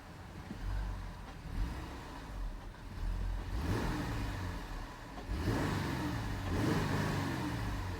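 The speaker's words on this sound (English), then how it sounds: "I'll let you guys hear the motor a little bit" A 2018 Jeep Grand Cherokee Limited engine, held by a 3,000 RPM rev limiter, is revved a few times in quick succession, each rev rising and falling, fairly faint and heard alone without talking.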